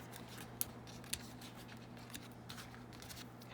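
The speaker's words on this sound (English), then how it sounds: "I'm just going through, cutting off all the threads here that are hanging." Small scissors snip loose hanging threads on a sewn junk journal, giving two crisp, faint clicks close by, followed by a few softer snips over quiet room tone.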